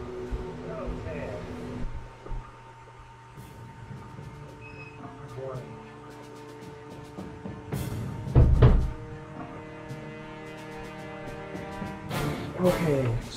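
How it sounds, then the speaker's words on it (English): A door is shut once, giving a single heavy thud partway through amid ongoing game sounds and background noise. "I have to shut the door"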